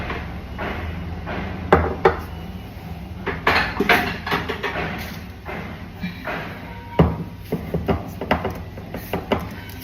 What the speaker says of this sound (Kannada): ಸ್ವಲ್ಪ ಇಲ್ಲಿ ಕನ್ಸ್ಟ್ರಕ್ಷನ್ ನಡೆಯುತ್ತಿರೋದ್ರಿಂದ ಸೌಂಡ್ ಇದೆ